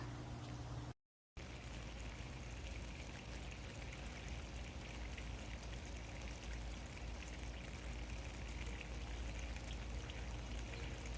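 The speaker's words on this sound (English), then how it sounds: "Finishing up draining the tank here. This is the second bucket I'm filling with the algae from the bottom." A pump drains algae-laden water from the bottom of a tank into a bucket, making a steady, continuous rushing pour that holds at an even level throughout, broken only by a split-second dropout near the start.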